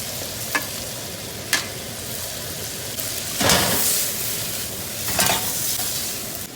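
Ribeye of beef sizzling steadily in a frying pan, a close, even hiss broken by a few sharp clicks and scrapes from the pan or utensils.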